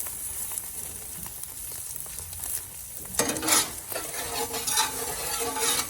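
A loaded omelette with peppers sizzles on a Blackstone flat top griddle, a steady frying hiss that grows brighter and louder partway through as a metal spatula scrapes and stirs close by.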